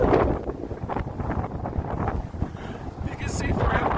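Wind gusts on a mountain top on a wilderness hike, a loud rushing buffet across the microphone that rises and falls, with a voice speaking faintly underneath.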